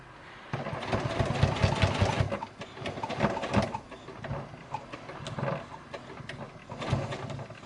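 A domestic sewing machine slowly stitches a seam on a small make-up bag over a bulky seam aid, its motor whirring in uneven bursts up close, speeding and slowing with short pauses between runs.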